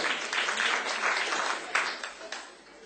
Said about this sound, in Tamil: எங்கே அவருடைய கரகோஷம்?